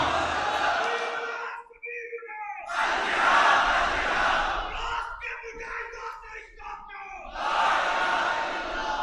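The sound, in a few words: crowd chanting slogans at a rally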